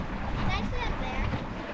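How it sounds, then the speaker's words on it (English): Wind gusting around a small Optimist sailing dinghy, a steady broadband roar close to the microphone with faint water movement beneath, constant and unbroken throughout. "the wind just picked up"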